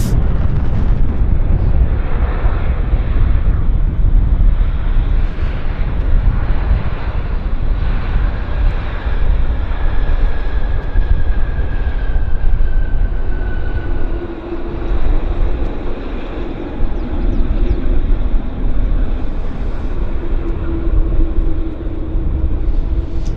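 Roaring rumble of an airliner landing at Vancouver Airport, loud and continuous with broadband engine and wind noise swelling and easing over the whole stretch.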